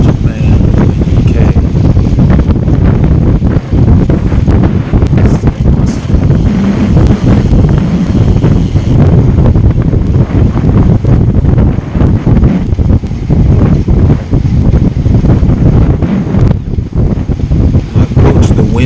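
Strong wind buffets the microphone throughout a group cycling ride outdoors, a loud, continuous roar with gusty swells and no pauses, covering any other sound.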